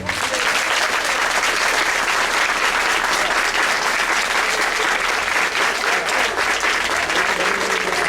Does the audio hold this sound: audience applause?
yes